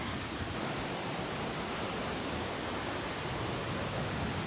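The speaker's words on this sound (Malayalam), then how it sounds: "കാണുമ്പോൾ തോന്നുന്നു നല്ല ഒഴുക്കാ വെള്ളത്തിന്" Strong flow of Athirappilly waterfall, a dense, unbroken roar of rushing water that stays loud and even throughout, with no voices.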